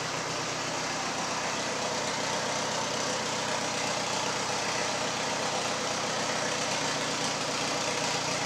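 A Nissan 240SX fitted with a budget turbo kit idles steadily just after being fired up, a continuous engine rumble holding at even level throughout with no talk.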